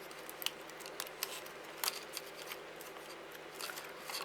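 Scissors snipping through the base of a small handmade wooden scene, a quick series of close, crisp cuts and clicks with brief rustling between them.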